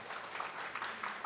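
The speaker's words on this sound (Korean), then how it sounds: "모두 뜨거운 박수로 함께 환영하겠습니다" Warm applause at a constitutional reform forum welcoming journalists and citizens in attendance, a brief, dense burst of many clapping hands holding steady throughout.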